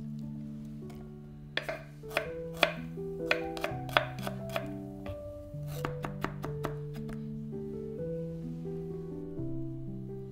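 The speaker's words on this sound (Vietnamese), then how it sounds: "gừng băm nhỏ." A knife mincing ginger on a cutting board makes a rapid run of sharp close taps over a steady instrumental music bed, with no talk.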